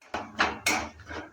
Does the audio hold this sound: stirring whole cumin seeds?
yes